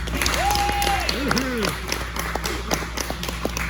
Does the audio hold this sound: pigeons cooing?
no